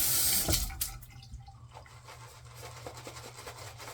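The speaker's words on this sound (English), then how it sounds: "Let me get a little water." Water runs from a tap into a sink, a brief loud gush at first that tapers into a quieter splashing trickle with a few scattered drips.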